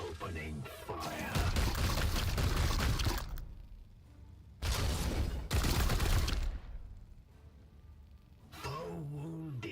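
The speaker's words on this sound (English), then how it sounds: "Opening fire." Gunfire in the turn-based strategy game Warhammer XCOM: dense broadband bursts of shots in two long volleys with a short gap, alongside game voice lines and music.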